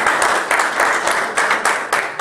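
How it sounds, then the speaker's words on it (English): Congregation clapping together in a church service, a dense, loud wash of hand claps that swells in rhythmic bursts about every quarter second, steady and close throughout. "Give him a hand clap as you say it."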